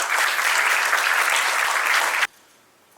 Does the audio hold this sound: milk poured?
no